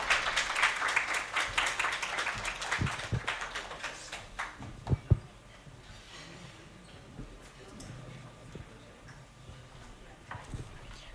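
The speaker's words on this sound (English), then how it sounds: "give a big round of applause to all the panelists" Seminar audience applauding the panelists, a burst of dense clapping at the start that thins out and fades after about five seconds into scattered claps and room noise.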